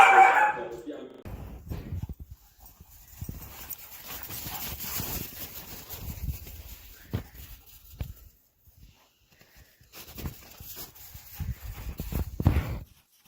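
Dogs bark in scattered bursts, some close and some further off, with people talking intermittently between them.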